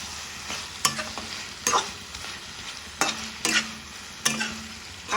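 A spoon stirs tamarind into tomatoes cooking in a hot pan, a few distinct scraping, clattering strokes spaced over a soft steady sizzle, close and without talk.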